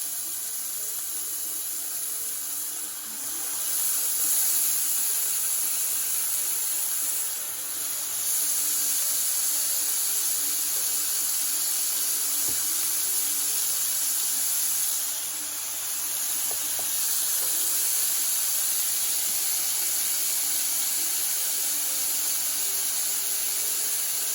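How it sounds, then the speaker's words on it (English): Bacon strips laid on a hot Ninja Foodi XL Pro griddle give off a steady, loud, broadband sizzle that holds for the whole stretch with slight swells, and no one speaks over it. "Let's lay that bacon right on there. Woo! Listen to that sizzle, kids."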